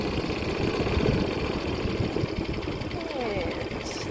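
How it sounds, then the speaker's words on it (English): The outboard motor of a sailing dinghy chugs steadily while motor sailing on a lake, a constant low engine drone with water and wind noise mixed in, loud and close throughout. "we've still got the motor going"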